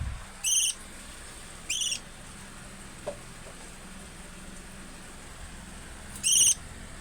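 Three short, shrill calls from a hungry pet bird before feeding burst out at intervals, two close together early on and one near the end, over quiet background hiss.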